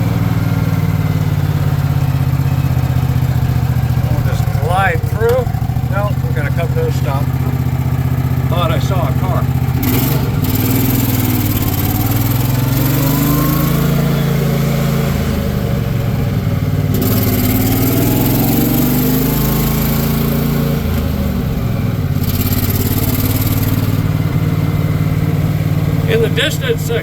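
A 1977 Cushman Truckster utility vehicle driving near a golf course, its small engine chugging steadily and rising and falling in pitch as it speeds up and slows, with people talking over it.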